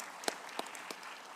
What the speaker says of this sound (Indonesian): ini harus tepuk tangan kepada pimpinan MPR yang sekarang